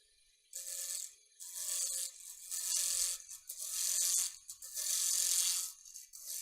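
Olive wood pen blank spinning on a lathe as a cutting tool works it toward round, giving bursts of rough, rattling scraping that start and stop repeatedly, close and fairly loud with no talk.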